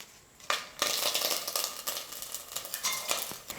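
Cardamom, star anise, cinnamon, cloves and a bay leaf drop into hot oil for vegetable biryani, bursting into a sudden loud sizzle that crackles and pops steadily close by.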